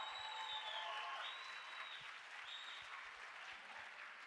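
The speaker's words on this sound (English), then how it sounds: "please give a big round of applause to all 12 of these finalists one more time." A large audience applauds the twelve demo finalists at a closing ceremony, a steady, dense wash of clapping that carries evenly from start to end at moderate level, with no voices.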